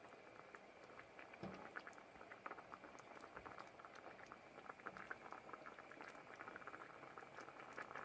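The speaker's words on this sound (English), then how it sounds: "Put in the veg stock and then just stir for a good long time until the rice gets bigger." Risotto rice simmers in vegetable stock inside a camper van while being stirred, giving a soft, continuous bubbling patter with small wet pops and occasional spoon scrapes, quiet and close.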